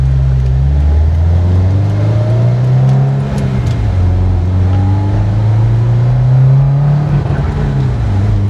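A Subaru WRX STI engine being built for 500 horsepower revs hard and steadily, its loud, close drone rising and falling in pitch as it pushes toward the rev limiter, with no voices over it.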